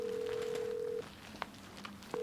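A mobile phone rings during an office meeting with a steady electronic tone, then several short beeps follow faintly over quiet room noise.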